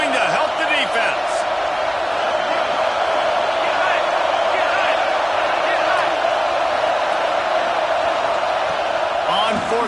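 Stadium crowd in an American football video game roaring on a late fourth-down defensive play, a loud, continuous wash of cheering with scattered whoops, steady and dense for the whole stretch.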